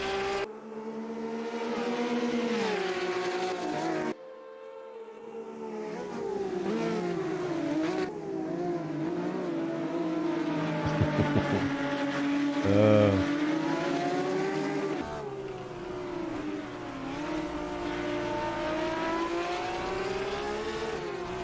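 Racing car engine in the Automobilista 2 sim, revving hard and climbing through gears with sharp downshifts and brief drops, loud and close throughout with no talk over it.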